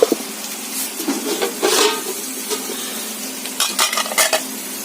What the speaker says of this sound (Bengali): এখানে দেখো আলু পেঁয়াজ ভাজা করছি মেয়ের জন্য একটু